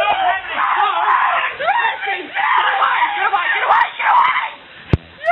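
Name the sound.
woman screaming in a video of a house gathering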